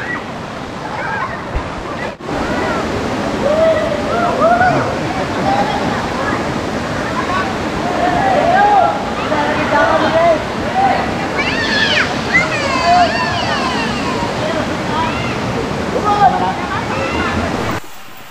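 A waterfall in Tanay rushes steadily as broadband water noise for the whole stretch, loud and close, with people talking and calling out over it.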